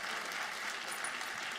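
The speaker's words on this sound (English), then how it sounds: "Give Jason a big round of applause." An indoor audience gives a steady round of clapping, dense and continuous at moderate volume throughout.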